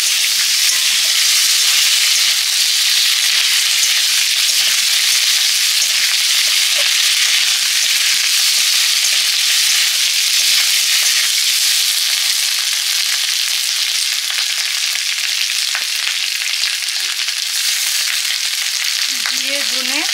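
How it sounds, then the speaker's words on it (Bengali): Ginger paste fries in hot oil in a pan, giving a loud, continuous hissing sizzle that holds steady throughout, with faint stirring scrapes now and then. "এবারে দিলাম আদা বাটা,"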